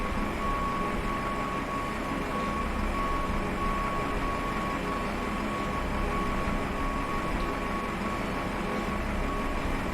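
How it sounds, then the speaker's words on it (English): Truck reversing beeps sound in a flight simulator at Sydney airport in the rain beside a PMDG 747-8F freighter, a steady repeating tone over constant loud rumble and hiss. "I'm blasted by these trucks."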